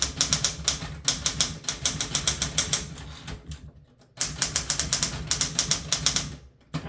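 Rapid bursts of keystrokes on a Smith Corona Galaxie Deluxe manual typewriter, loud close clacks in quick rhythmic runs, a brief pause, then more typing to a final strike.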